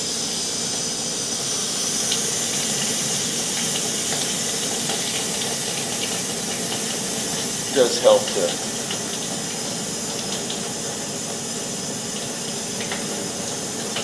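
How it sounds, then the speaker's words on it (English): Water runs steadily from a tap while pipes are flushed during a house check in Dayton, Ohio, making a continuous hiss with a brief spoken phrase and a few small knocks partway through. "turn the water back on for a minute here."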